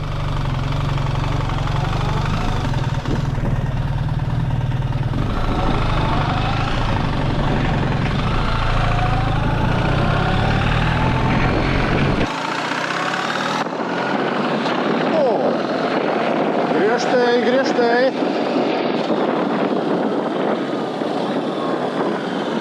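A BMW R1300GS Adventure motorcycle with an automatic gearbox pulls away in first gear, a strong low engine rumble that holds steady and then drops away abruptly partway through, while someone talks over it.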